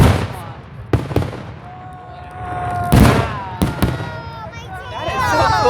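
Fireworks burst outdoors in a series of sharp booms and crackles spaced a second or two apart, with whistling trails between them and a crowd's voices in the background.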